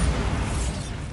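The Bombarda blasting spell goes off in Hogwarts Legacy as a brief low rumbling explosion, heavy and muffled, sustained through its short length with no voices.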